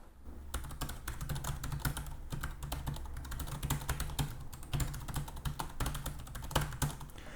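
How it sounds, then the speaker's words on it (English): Steady, fast typing on the compact keyboard dock of a Chuwi Hi13 tablet, crisp tactile clicks in a continuous rapid rhythm, close up with a low hum underneath. "the keyboard here is really nice and tactile. Here, take a listen."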